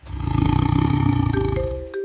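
A lion's roar from a children's phonics alphabet song: a loud, sustained, throaty growl of about two seconds with pulsing texture, easing off as a few bright musical tones come in at the end.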